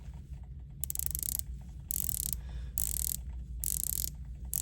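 Breitling Superocean watch bezel turned in 120-click steps, with bursts of fine rapid ratcheting clicks repeated five times in an even rhythm, close up over a low background hum.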